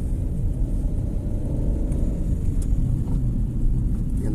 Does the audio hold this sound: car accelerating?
yes